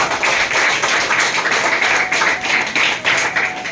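An audience at a motivational speech event claps loudly and together in a rapid, pulsing rhythm that rises and dips in waves, close and continuous with no voices over it.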